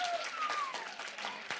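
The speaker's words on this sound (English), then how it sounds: "Go ahead, applaud that." A brief burst of audience clapping in a lecture hall on addiction neuroscience, moderately loud and gradually thinning, with a faint tone running underneath.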